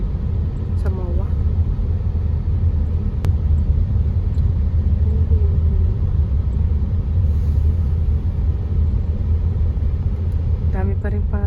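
Car engine rumble from inside a vehicle driving out of Mall of Asia in heavy evening traffic, a constant low drone with brief faint beeps and short bursts of talking.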